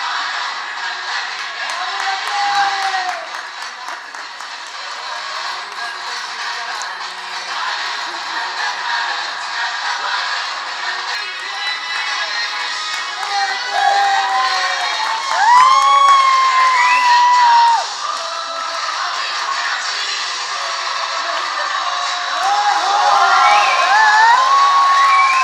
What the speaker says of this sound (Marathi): जोरदार टाळ्या झाला पाहिजे या जोडीसाठी